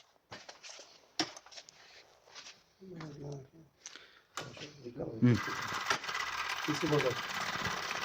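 A carpet overlock sewing machine starts up and runs with a steady, busy whirr as it stitches, with people talking before and over it.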